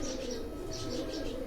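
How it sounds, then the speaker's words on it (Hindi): Lakha pigeons in a home loft coo softly and steadily, a low continuous murmur of several birds close by, with no one speaking. "ये उन्हीं के घर के ये लाखे कबूतर हैं"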